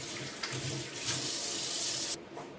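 Chicken is washed under a running kitchen tap, a close, steady rush and splash of water over the meat that stops abruptly near the end.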